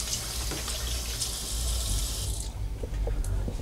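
Water runs steadily from the large sink tap in a bathroom aboard a Sanlorenzo SL86 yacht, a close, continuous hiss that cuts off partway through, leaving quieter room noise.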